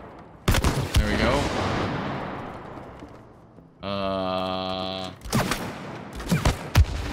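Gunfire from shooting in the co-op video game It Takes Two: a dense burst of rapid shots near the start, then later clusters of sharp cracks, mixed with game effects and a sustained tonal buzz in between.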